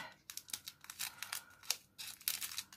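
Scissors snip open a small plastic sachet of golden yellow beads for beaded embroidery, a string of quick crisp crinkling cuts and rustles, close and fairly faint, with no talking.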